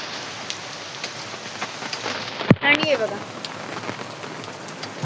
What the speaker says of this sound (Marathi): पाऊस चालू सुद्धा झाला बघा